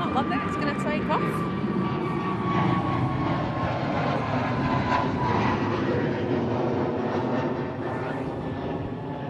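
An Antonov 124 cargo aircraft takes off at East Midlands Airport, its engines producing a loud, sustained roar with a whining tone that slowly fades, while people talk nearby.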